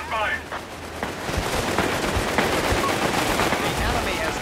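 Bursts of rapid machine gun fire crackle through a video game battle, dense and loud, with explosions and radio-style voices mixed in.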